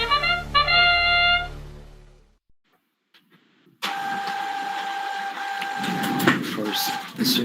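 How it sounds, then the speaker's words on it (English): A home printer starts up with a brief run of rising mechanical tones, pauses nearly silent, then switches to a loud continuous whirring and grinding of the paper feed that runs steadily to the end. "my printer starts doing something"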